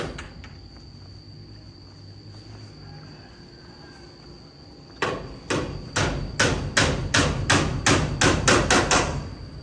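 Steel nails being hammered in while building a small shop: a quiet stretch with faint background hum, then about a dozen sharp, close metallic blows in a quickening, steady rhythm.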